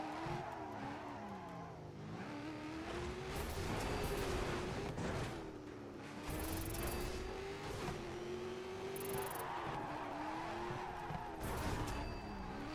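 A car racing in the video game DIRT Showdown, its engine revving and droning continuously with rising and falling pitch, broken by bursts of harsh tire skidding and scraping throughout.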